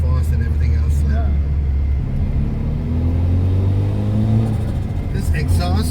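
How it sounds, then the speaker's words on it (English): Turbocharged Japanese engine swapped into a BMW E30, breathing through a custom one-off exhaust, holds a steady loud rumbling drone with rising whine tones, revving throughout; faint talk sits beneath. "when you really rev it, yeah, no other turbocharged car has this sound"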